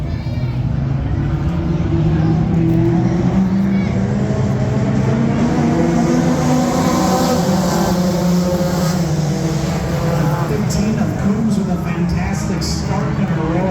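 Midwest Modified race cars running together at Red Cedar Speedway, a loud, steady engine roar sustained throughout, with an announcer's voice talking over it.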